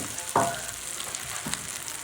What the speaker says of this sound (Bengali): ডিম ভাজি হচ্ছে খুব সুন্দর করে